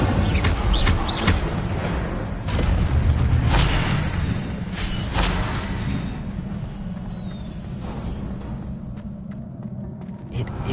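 Incendio fire spell cast repeatedly in Hogwarts Legacy: several loud whooshing bursts flare over a constant low rumble, fading toward the end.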